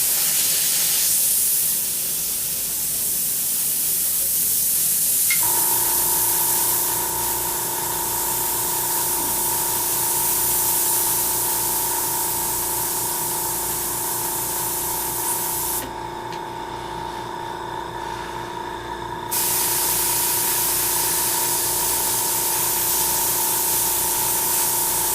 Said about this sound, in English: That's my compressor.